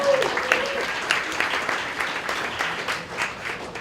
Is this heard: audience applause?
yes